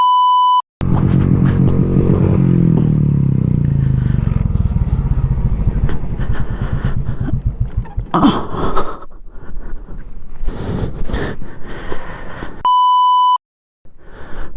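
Motorcycle climbing a mountain road toward Baralacha La pass at high altitude, engine droning loud and close, later breaking into scrapes and clatter, with electronic beeps at the start and end.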